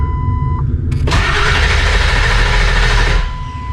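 A Ford 7.3 PowerStroke diesel engine with newly installed injector cups cranks briefly, then catches and settles into a loud, rattling idle for a few seconds, with a faint beep heard just before the start.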